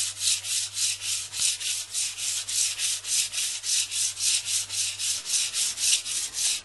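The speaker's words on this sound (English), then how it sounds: "keeping the rod turning all the time, rub the handle until it's smooth" Steady, rhythmic rubbing of sandpaper on a cork fishing rod handle as the rod turns, a soft hiss repeating about twice a second, close and moderately quiet with no voices.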